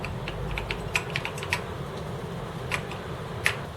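Keys on an Acorn Electron home computer keyboard pressed during a game, a sparse series of sharp plastic clicks at an irregular rhythm, close and fairly faint over a low background hum, with no speech.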